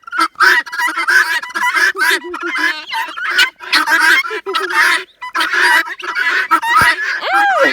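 Guinea hens cackle loudly and close by, a dense, repeated run of harsh honking calls in quick bursts with brief pauses, heard alone.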